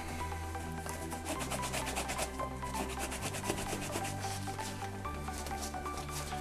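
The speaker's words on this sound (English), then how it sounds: "with a bit of work, a bit of rubbing, the mud will actually come out quite easily" Continuous close rubbing and scrubbing while cleaning mud off an adidas X 15.1 football boot, steady friction strokes over a low background hum, no talk.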